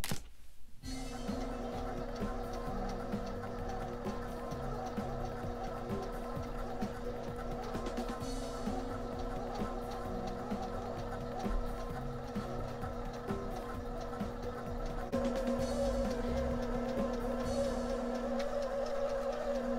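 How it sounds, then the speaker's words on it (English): A sewing machine stitches along a pinned hem of fabric cut from upcycled shirts to make a bikini, giving a steady, close, continuous motorized whir with no talking. "Now I'm going to sew along the pins."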